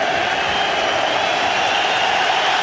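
Steady, dense applause from a large stadium crowd at a Liverpool v Arsenal FA Cup football match, a continuous broad wash of clapping with no distinct voices standing out.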